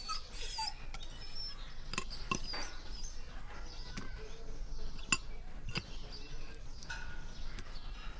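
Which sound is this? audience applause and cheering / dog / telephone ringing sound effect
dog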